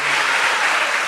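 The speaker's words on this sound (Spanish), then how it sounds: "Dale un aplauso al Señor." A church congregation at an evangelistic service claps together in praise, a loud, dense burst of applause filling the whole moment without any speaking.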